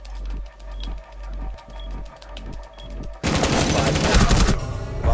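In a bomb-defusal shooter, evenly spaced single gunshots pop at first, then a sudden, much louder stretch of dense automatic fire takes over to the end.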